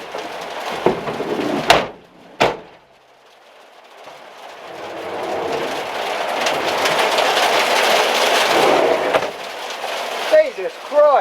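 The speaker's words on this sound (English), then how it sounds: "It's lashing it down now." Hailstones and heavy rain hammer the roof of a Vauxhall Vivaro SWB campervan in a dense, steady roar that builds after a few sharp knocks and a brief lull, filling the rest of the clip.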